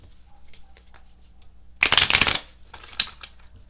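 Angel cards shuffled right beside a microphone, a loud dense riffle burst lasting about half a second, then a lone snap, with faint handling noise before and after.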